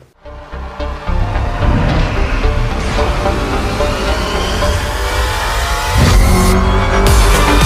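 A Lotus Emira sports car with a six-speed manual gearbox drives hard, its engine revving loud and close with rising acceleration, gear changes and brief tire squeal throughout.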